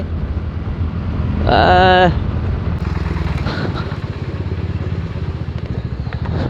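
A TVS Ntorq scooter ridden at top speed on the road, with a constant rushing engine and wind roar close to the microphone and a brief horn-like tone early on.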